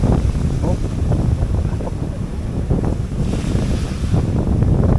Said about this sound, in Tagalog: Grabe, lalaki ng alon ngayon ha.